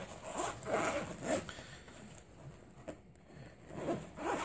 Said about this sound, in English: When you get these zippers